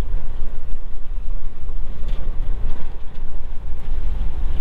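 Strong wind buffeting a car on the foggy NH166 Ratnagiri–Nagpur highway near Sakharpa and Amba ghat, a steady loud low roar with gusty swells pressing against the vehicle and no talk.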